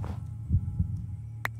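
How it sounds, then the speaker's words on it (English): Heartbeat effect from the Minecraft Decked Out dungeon game, a steady low throbbing pulse with two stronger thumps, alone with a faint hum and one brief chime near the end. "My heartbeat's still okay, to be fair."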